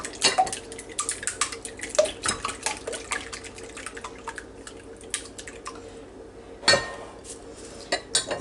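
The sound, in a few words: beating four eggs in a bowl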